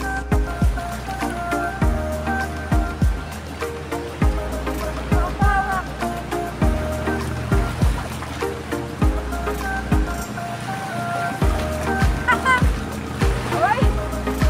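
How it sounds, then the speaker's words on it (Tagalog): Ocean waves break and wash onto the beach at Patar, Bolinao, Pangasinan, with repeated close splashes and surges at an irregular rhythm, while people talk and exclaim nearby. "Ang ganda ng alon dito."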